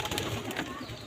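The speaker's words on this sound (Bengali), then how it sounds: "এটা গিরিবাজ মাদি কবুতর, খুব সুন্দর কবুতরটা।" A female Giribaz pigeon coos softly inside a loft on a rainy day, a brief low murmuring call set against a noisy background with rustling.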